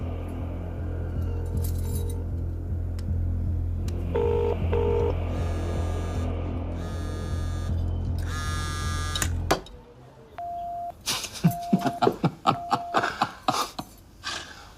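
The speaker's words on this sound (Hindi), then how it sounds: "चल फोन लगा उसे।" Phone on speakerphone being dialed: a low electric buzz gives way to a series of clear keypad tones, then faint clicks and short dial beeps in a quiet room.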